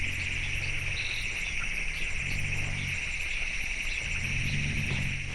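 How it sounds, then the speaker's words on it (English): Elephant rumbling calls in a night forest clearing, sped up three times, rise as three low groaning swells, each about a second long, beneath a constant high chirring of insects. "You can hear the elephants' rumbling calls."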